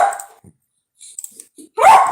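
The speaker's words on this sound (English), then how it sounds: "can you stop barking?" A pet dog barks in short bursts at home, with a loud, close bark at the end after quieter scattered sounds.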